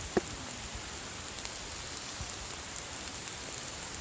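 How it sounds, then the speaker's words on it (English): Soft, steady patter of light rain falling on the Old Loggers Path hiking trail, a continuous gentle hiss with a faint tap near the start and no voices. "Still raining a little bit."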